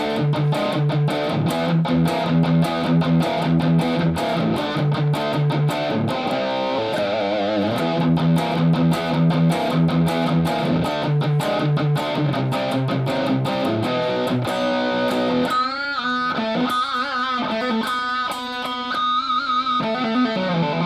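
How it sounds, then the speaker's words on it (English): Heavily distorted electric guitar through a Positive Grid Spark amp on its high-gain setting rings out loud and continuous, chugging riffs and sustained chords, shifting to brighter fast notes near the end. "Here's the high gain."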